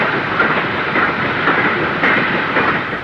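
Steam-era train arriving at or leaving Manchester in 1956, heard as a steady rumble of rolling carriages with rhythmic clickety-clack of wheels over rail joints, continuous and fairly loud throughout.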